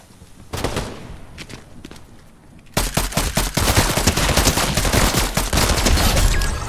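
Rapid gunfire in the video game Fortnite, shooting at NPCs: a few sparse shots at first, then a dense, loud burst of repeated automatic fire that continues steadily to the end, with no talking.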